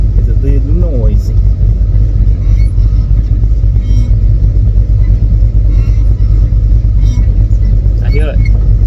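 Chevrolet El Camino engine idling steadily up close, a deep continuous rumble with people talking over it.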